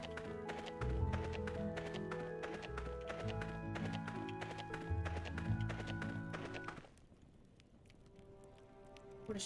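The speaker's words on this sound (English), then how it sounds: "Yeah, you're fucking clip-clopping, bro." Horse hooves clip-clopping in the God of War video game, brisk repeated taps over game music that stop about two-thirds through, leaving quieter sound.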